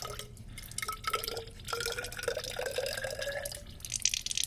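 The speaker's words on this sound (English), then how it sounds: "then I will just fill it up with water," Water trickles and gurgles into a graduated cylinder in a lab, the pitch rising steadily as it fills, with small drips and clinks near the end.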